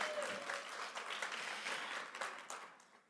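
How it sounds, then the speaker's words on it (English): Applause from the audience at the 2024 Womentum Leadership Summit, a full, even wash of many people clapping that gradually tapers off near the end, quiet and somewhat distant. "Yes, we can clap to that."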